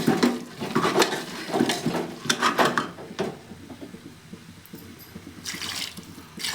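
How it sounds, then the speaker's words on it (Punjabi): Water poured from a ladle into a pan of potato and pea curry (aloo matar) on the stove, heard as several close splashing pours with metallic clinks of the ladle against the pot, with no talk. "ਇੱਥੇ ਆਪਾਂ ਦੋ ਕੁ ਕੜਛੀਆਂ ਦੇ ਗੇੜ ਪਾਣੀ ਪਾ ਦਿੱਤਾ ਹੈ"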